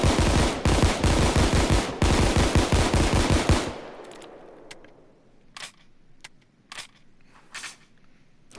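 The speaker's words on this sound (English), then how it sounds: "Let's see how these things goes without me controlling the recoil." M1911 Crosskill pistol firing in the video game Payday 2, a rapid string of sharp, loud shots for a few seconds, then quieter scattered clicks and clacks of handling.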